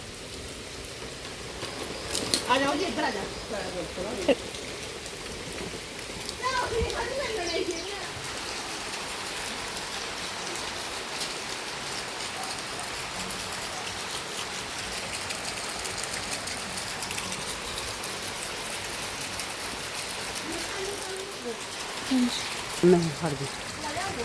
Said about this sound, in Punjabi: 6:30 ਵਜੇ ਦਾ ਮੀਂਹ ਪੈ ਰਿਹਾ